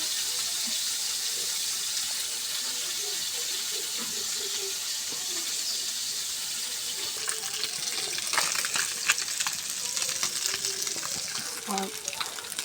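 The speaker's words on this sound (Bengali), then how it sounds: "মাছের ভাজিটা হয়ে গেছে বন্ধুরা দেখুন তেল ছাড়ে গেছে" Freshly caught mixed fish frying in oil, a steady loud hiss and sizzle running throughout, with crackling spits growing busier near the end and a voice talking faintly over it.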